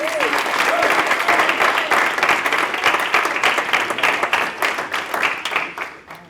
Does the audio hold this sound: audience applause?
yes